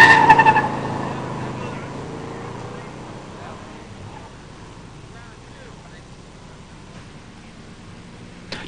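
A 1969 Oldsmobile 442 with a 400 four-speed drag races an 1987 Buick Regal T-Type at a stock drag strip, a loud launch roar that fades steadily into the distance beneath an announcer's voice.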